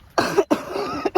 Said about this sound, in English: I have a nasty cough now